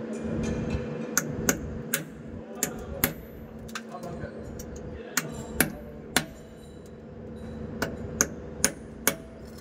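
Hammer blows on a Land Cruiser differential part during a seal replacement, sharp metallic strikes in small spaced clusters over a quiet workshop hum, fairly close, no talking.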